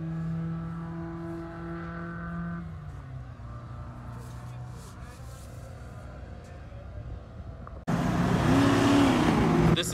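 Grip-class race cars, including a Pantera, GTO, Mitsubishi and Vipers, lap the TC1000 circuit, engines droning at a distance before a much louder surge of roaring exhaust as one passes close near the end.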